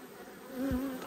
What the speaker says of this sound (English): Got more bees trying to sting me.